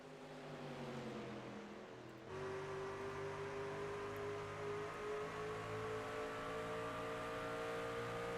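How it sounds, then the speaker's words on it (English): A simulated race truck engine drones loudly in a video game race at Phoenix, with a sharp gear shift about two seconds in, after which the engine pitch climbs steadily. "You hear Wallace shifting as they go down"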